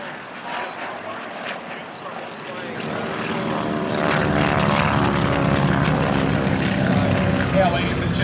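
A propeller aircraft drones overhead at an air show, its engine growing louder and fuller as it nears, while a commentator talks over a public address system.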